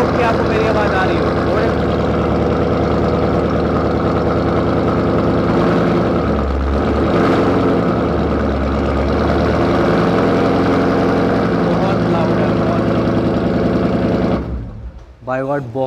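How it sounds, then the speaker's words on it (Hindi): The V8 of a Ford Mustang GT, fitted with an aftermarket Borla exhaust, rumbles loud and close in a heavy, continuous idle for about fourteen seconds, then cuts away abruptly. "बोरला का इसके अंदर आफ्टर मार्केट एग्जॉस्ट लगा हुआ है,"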